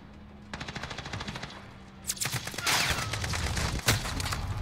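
SMG gunfire in the Modern Warfare video game, heard as a light rapid burst followed by a louder, sustained stream of fast shots with a final sharp crack, and no talking.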